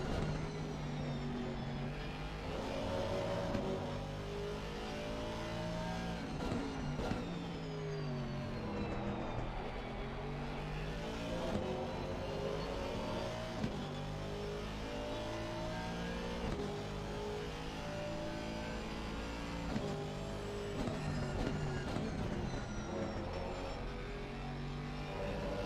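Porsche and Aston Martin race cars in a sim racing endurance event at Imola, engines droning and revving continuously with shifting pitch throughout, loud and steady with no talk.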